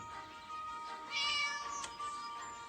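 A cat meows in a video game, a drawn-out harmonic cry over a steady bed of game music and background noise.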